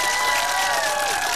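Karaoke crowd at an outdoor show on the Maidan clapping and cheering, a loud, continuous wash of applause and voices over a sustained musical tone.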